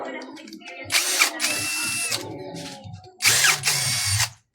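Two loud whirring bursts of a power screwdriver backing out terminal screws on a panel board, close by, separated by brief pauses, with someone talking faintly underneath.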